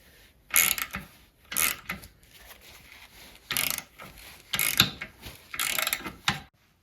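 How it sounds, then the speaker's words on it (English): Bolts being tightened on a Motostandard 1010 motorcycle chassis, giving five loud bursts of ratcheting clicks spaced about a second apart, close and alone with quiet gaps between. "I'll tighten them all up fully after I've done them all up a bit."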